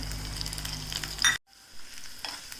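Orange peel and grated coconut frying in a pan, an even sizzle with stirring scrapes that cuts off sharply, then goes quiet before soft frying resumes, no voices.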